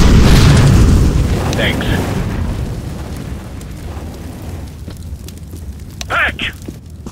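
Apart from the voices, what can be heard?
fire grenade thrown and burning in video game CS:GO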